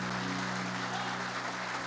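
A church congregation applauds during an evening service, a dense, sustained wash of clapping from many hands with an organ-like tone held underneath, unbroken throughout.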